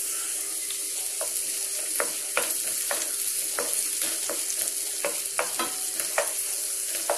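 Tomatoes go into a hot frying pan with curry leaves for a spicy drumstick curry, sizzling steadily while a spoon scrapes and stirs in repeated close taps.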